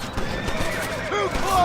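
Horses whinny and neigh in the Western video game Red Dead Redemption, several wavering calls close by over hoof clatter and game ambience, the loudest cries near the end.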